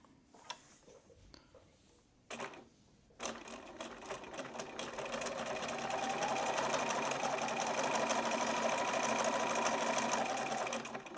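A sewing machine stitches a quick buttonhole, starting with a few short bursts and then settling into a steady, loud, continuous whirring run that holds to the end.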